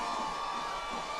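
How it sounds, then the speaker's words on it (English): A dense, steady roar of a parade crowd at Mardi Gras in New Orleans, cheering continuously and close by for a brief moment with no pause. "Listen to the crowd."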